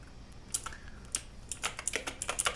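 Typing on an X-Bows mechanical keyboard with clicky Kailh Blue switches gives sharp close key clicks, sparse at first and then a quicker irregular run, crisp and alone without talk.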